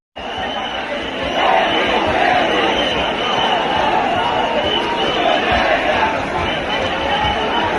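Dense crowd noise from a large protest gathering at Jantar Mantar, a steady wash of many voices and movement that swells slightly after the first second and holds loud and continuous throughout.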